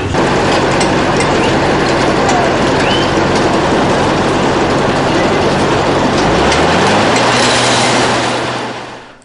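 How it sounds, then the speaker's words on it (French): Self-unloading ballast wagon discharging ballast during night railway works, a loud, dense roar of rumbling rail machinery and pouring stone with a low engine tone that rises in pitch near the end as it fades away. "Le VAD, wagon autodéchargeur, permet de décharger le ballast rapidement et de façon homogène."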